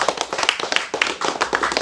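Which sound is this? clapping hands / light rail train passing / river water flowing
clapping hands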